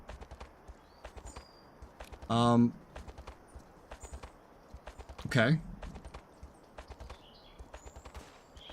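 Horse hooves in a train video game clip-clop in a steady rapid rhythm, close and clear, broken by two loud bursts of other game noise, with a voice briefly speaking.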